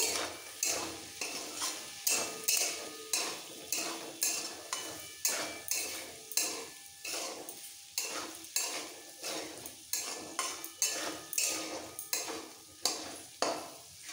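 Potato and cauliflower with spices are stir-fried in a pan, with a spatula scraping in a steady, even rhythm of strokes over a faint sizzle, close and clear, with no voices.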